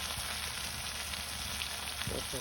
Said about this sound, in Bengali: মাছ ভাজি যে তেলগুলো রয়েছে ওগুলোর উপরে হচ্ছে যে আলুগুলো দিয়ে দিচ্ছি।